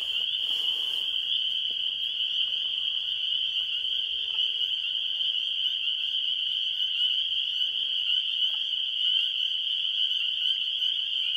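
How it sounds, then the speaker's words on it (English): Spring peeper tree frogs call from a marsh in a dense, continuous chorus of high peeps, loud and unbroken throughout, with no voices over it. "The main noise we're hearing is the peeper, the little tiny guy with the X on his back, little tiny tree frog"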